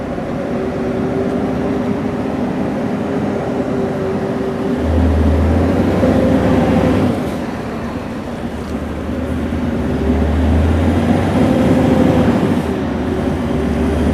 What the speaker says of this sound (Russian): Так что V8 слушайте мой.